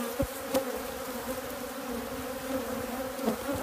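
Honeybees buzz steadily around an open hive frame, a close, continuous droning hum with a few louder passes and faint knocks of the frame.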